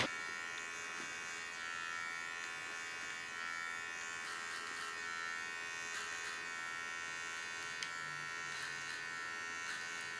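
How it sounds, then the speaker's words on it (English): Steady high buzz of a small hair clipper shaving the side of a head, close and fairly faint, constant with slight variations as it moves. "Do the small side shave just with my fine comb and my small clipper"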